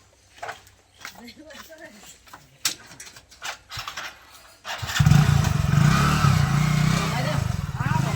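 A motorcycle starts after a stretch of people talking, then its engine runs loud and close with a steady rumbling idle for the last few seconds.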